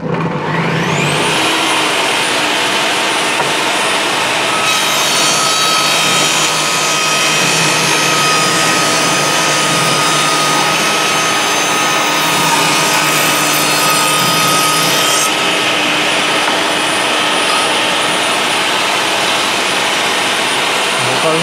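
A Bosch GTS 10 XC table saw roars steadily at full speed while ripping a narrow 1 cm strip of wood, loud and close for over twenty seconds, the blade whine changing pitch slightly as the cut goes through.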